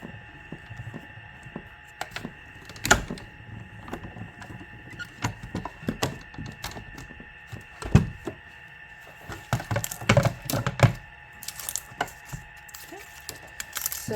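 A hand-cranked die-cutting machine feeds a paper and die sandwich with a clear plate through its rollers, giving a sparse series of sharp clicks and knocks over a faint steady hum, busier toward the end.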